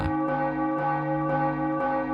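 An eerie bell tolls in the horror game Silenced, striking steadily about twice a second with a rich, sustained ring that hangs between strikes. There is no other sound.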